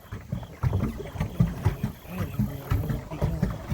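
Paddle strokes dipping into water from a small boat on a catfish-fishing outing, a steady rhythm of soft splashes and knocks, close by and fairly quiet.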